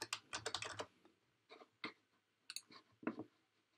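Keystrokes on a computer keyboard as a password is entered at a login screen: a fast burst of close, crisp clicks, a pause, then a few scattered single taps, with no voices.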